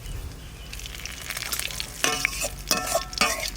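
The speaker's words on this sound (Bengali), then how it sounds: "একটা তেজপাতা ছিঁড়ে দিচ্ছি।" A torn bay leaf drops into hot oil for tempering, starting as a quiet low sizzle, then bursting into sharp crackling spits and pops in a few loud clusters toward the end.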